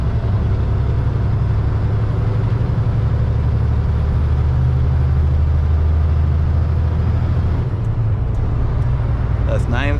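A loaded truck with a 10-speed manual gearbox pulls uphill in gear at raised revs, a loud steady low engine drone throughout, with a voice speaking over it inside the cab and a brief hiss near the end.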